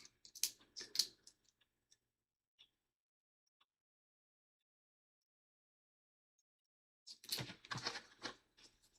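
Keys tapped in two short clusters of light, quick clicks separated by several seconds of near silence, close and fairly quiet.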